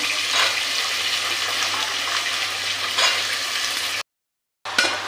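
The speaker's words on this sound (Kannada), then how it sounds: "ನೋಡಿ ಮಶ್ರೂಮ್ ಫ್ರೈ ಮಾಡ್ಕೊಳ್ತಾ ಇದ್ದೀನಿ" Mushrooms fry in a pan for a mushroom palak gravy, giving a loud, steady, close hiss that runs on before cutting out briefly near the end and returning.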